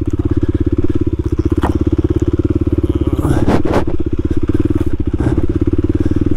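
Kawasaki KLX300 dual sport motorcycle climbing a soft dirt trail, its single-cylinder engine chugging loud and close in a steady pulsing throb, with brief revs and a few knocks and clatters.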